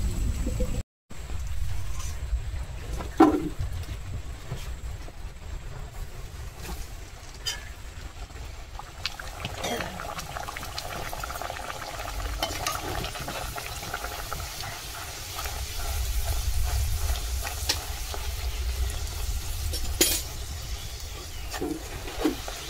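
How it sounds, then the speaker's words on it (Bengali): Luchi fry in bubbling oil in a village kitchen, a soft, steady boiling rumble with scattered pops that swells slightly midway, fairly quiet throughout after a brief cut near the start. "এই যে দেখতে পাচ্ছ বন্ধুরা, লুচি ভাজা হচ্ছে।"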